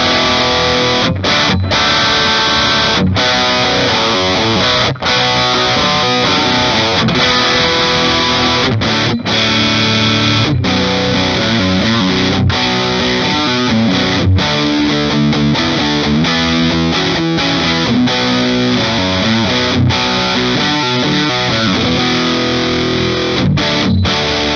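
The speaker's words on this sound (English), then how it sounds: "let's check out some distortion" A 2018 Gibson Les Paul Custom electric guitar, heavily distorted, plays a continuous, loud riff of chugging chords and sustained notes, with no voices.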